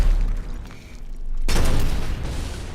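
Long-range G12 launcher explosions in the video game Eximius land as one sudden heavy boom partway through, following a quieter stretch and rolling into a sustained low rumble that fades slowly.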